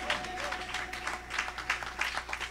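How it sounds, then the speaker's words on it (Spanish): A small group claps outdoors in the rain in a rural town, uneven moderately faint clapping with a low steady hum beneath and a faint tonal line early on. "Hay que darle un aplauso para la santa lluvia."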